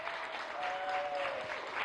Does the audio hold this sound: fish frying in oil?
no